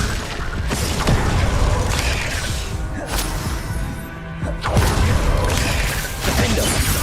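The Glacius spell cast in Hogwarts Legacy brings sharp crashing, shattering bursts over continuous busy combat rumble, with a few louder impacts spaced a second or two apart.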